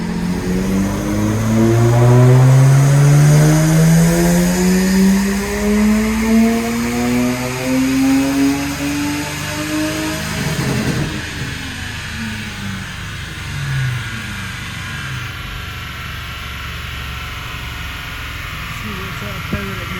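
A Lexus IS200 engine revs hard on a dyno, pitch sweeping steadily upward through the gears in loud rising whines, then dropping off around the midpoint into a lower, rougher rumble as it winds down.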